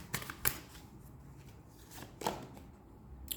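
Tarot cards being shuffled and drawn in a few soft, quick riffles and flicks, close and quiet, with short pauses between.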